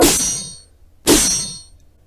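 Two sharp metallic stabbing hits from a video game empowered Q ability, about a second apart, each a bright clang that rings out and fades.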